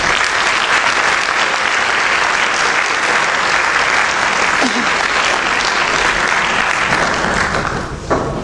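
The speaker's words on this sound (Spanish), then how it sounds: "Un aplauso para ellos." A crowd applauds steadily and loudly for two student presenters at a school commemoration event, the dense clapping holding throughout before thinning slightly at the end.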